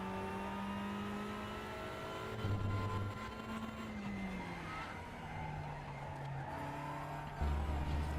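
TCR race car in RaceRoom with its engine bogging down through slow corners: a sustained engine tone that sags and shifts pitch, with brief tire scrubbing, loud and continuous with no talk.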